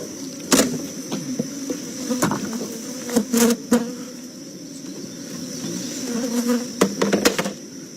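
Honey bees buzz around hives in an outdoor nuc yard, a steady droning hum punctuated by several sharp clicks and knocks from hive equipment, with no talking.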